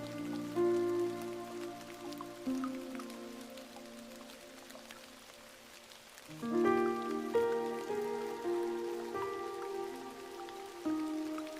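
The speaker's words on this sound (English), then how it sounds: "The rain outside continues its timeless song." Steady rain patters softly outside a forest cabin, a faint, even hiss under sustained mellow music tones that swell and shift.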